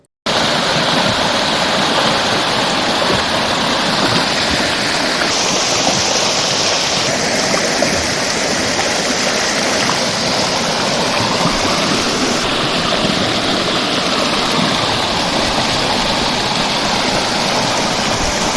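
Steady rushing of a clear forest stream tumbling over rocks at Kuruva Island, Wayanad, a continuous broad wash of water close by with no voices.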